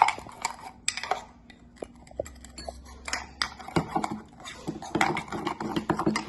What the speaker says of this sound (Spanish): La mezclo nuevamente. Tiene que deshacer todos los grumos.